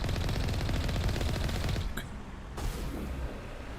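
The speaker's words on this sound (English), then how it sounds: "I'm getting shot at by Geth." Geth weapons fire in Mass Effect 1: a loud, continuous burst of rapid gunfire that cuts off sharply partway through, leaving quieter, scattered shots and mechanical noise.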